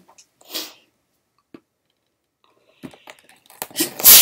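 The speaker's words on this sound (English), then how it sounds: "I didn't mean to sneeze at you all." A single sharp human sneeze bursts out mid-clip, followed by rustling handling noises and a louder burst of close movement at the end.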